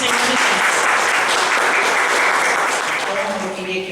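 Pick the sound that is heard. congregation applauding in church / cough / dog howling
congregation applauding in church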